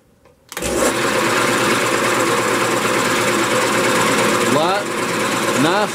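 A wood lathe spins up and runs steadily with a loud, continuous whirring drone while buffing a spalted walnut vase, close up and constant.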